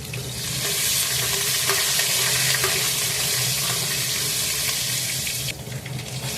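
Hot oil sizzles loudly and steadily as asafoetida, chopped chillies and curry leaves fry for a Gujarati patra dish, a dense continuous crackle with faint stirring before it eases near the end.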